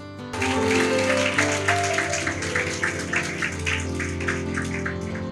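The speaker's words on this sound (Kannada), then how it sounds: "ಜೋರಾಗಿ ಚಪ್ಪಾಳೆ ತಟ್ಟಬಹುದು" A church congregation breaks into loud, dense applause that swells quickly and holds steady, with music tones sustained underneath.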